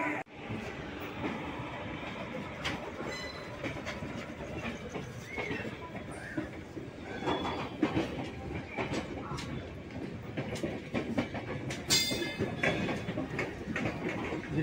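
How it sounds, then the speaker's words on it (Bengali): Kamrup Express passenger train rolling slowly out of Howrah, with low rumbling, rail clatter and scattered knocks heard from on board at moderate level, plus faint background voices. "ধীরে ধীরে এমনভাবে আমাদের ট্রেনটা এগিয়ে চলেছে"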